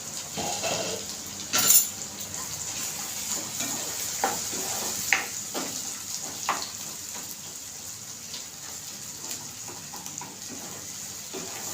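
Malvani masala frying in a pan for a drumstick and potato curry, with a steady hiss and scattered scraping stirs and clinks over roughly twelve seconds, close and moderately loud.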